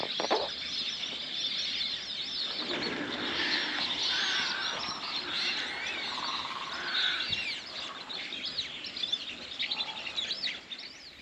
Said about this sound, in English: There's hundreds of ducks, I think they're ducks, on that bank just over there.